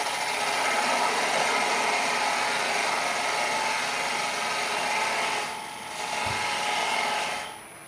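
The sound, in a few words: wood being turned and squared on a lathe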